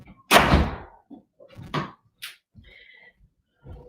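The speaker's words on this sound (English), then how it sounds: "I'm just going to shut my door because it keeps banging." An indoor door bangs shut with one loud close thud, followed by a few softer knocks and creaks in a quiet room.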